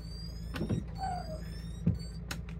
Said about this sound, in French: Et nous avons le marchepied qui crie.